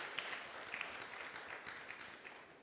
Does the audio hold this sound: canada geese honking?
no